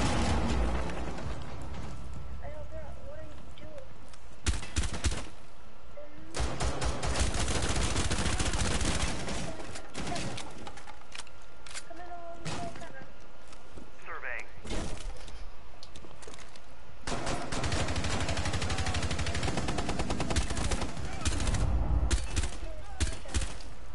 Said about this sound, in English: She has a sniper rifle!